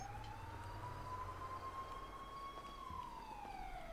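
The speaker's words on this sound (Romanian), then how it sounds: "Mă bucură faptul ăsta, că auzim sirenele." Police siren in a GTA game: one faint, distant wailing tone that rises slowly, holds, then falls away, over a low rumble with no talk.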